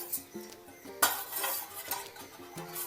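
A spoon stirs jaggery syrup mixed with dry ginger powder in a pan for Kerala Vishukatta, making rhythmic close metallic clinks and scrapes with one sharper knock partway through.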